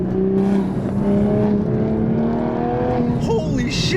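A 2023 Toyota GR Supra A91 MT Edition with a manual gearbox holds a steady, droning engine note, heard close and loud, with a brief pitch shift and a short voice near the end.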